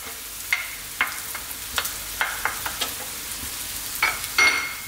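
Celery and carrots fry in a pan over above-medium heat, a soft sizzle broken by repeated scraping stir strokes at an uneven pace, close by and fairly quiet, with no voices.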